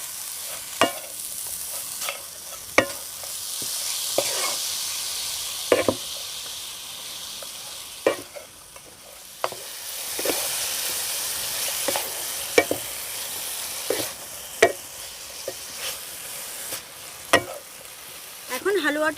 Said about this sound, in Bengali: এবার আবারও আমি 2 মিনিট মতো সব কিছু একটু মিশিয়ে নেড়ে নেব